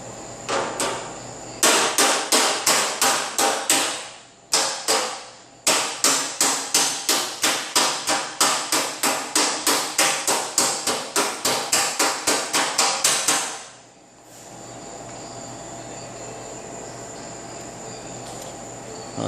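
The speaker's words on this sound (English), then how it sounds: "I'm going to take a flat bladed hammer. It's right here. And go underneath right into that bend and flatten that out a little bit." A flat-bladed body hammer strikes a bent fender on a 2010 Honda Civic sedan in rapid, sharp metallic blows, a loud close series of around thirty hits with two short pauses, then fading to a steady background hum.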